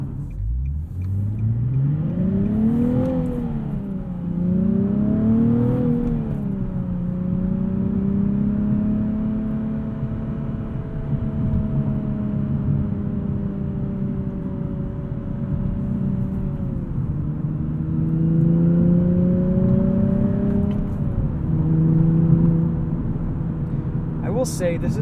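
A 2020 Nissan 370Z Nismo with a six-speed manual revs and pulls through gears while driving, its engine note rising, dropping at shifts and settling into a steady drone, heard from inside the cabin beneath someone talking.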